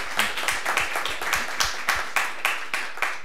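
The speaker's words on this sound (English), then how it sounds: "Why don't we give our guests a brief round of applause?" A brief round of applause for guests at a university speaker-series panel: a modest audience clapping in distinct, fairly regular claps close by, more of a scattered patter than a roaring ovation.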